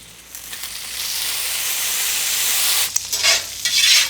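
A shallot, lemon and butter sauce sizzles steadily in a pan, a continuous bright frying hiss that swells slightly and crackles more sharply near the end, with no voices.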